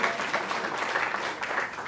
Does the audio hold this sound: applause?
yes